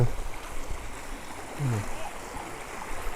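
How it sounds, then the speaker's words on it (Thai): A clear stream flows beside a forest campsite on the Phachi River in the Tenasserim range, a soft continuous rush of water with faint splashes, steady and moderately close, and a voice is briefly audible. "พาเดินมาดูสายน้ำหน่อย แสงแดดอ่อน ๆ ครับ ก็จะเห็น น้ำใสไหลเย็น"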